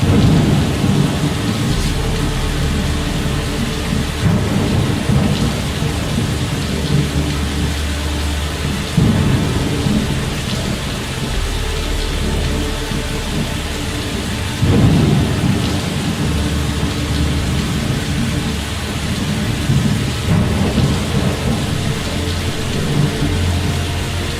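Heavy rain and rolling thunder in the video game Fallout London: a dense, constant downpour hisses throughout, with deep thunder swelling and rumbling at intervals, loud and close, with no talking.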